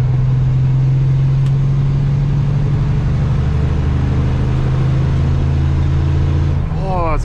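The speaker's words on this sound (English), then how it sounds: "It's been a while since we've been able to listen to a real truck." A truck engine idles with its exhaust pipes running, a loud, steady low rumble throughout with a faint rising whine near the end, close in the cab.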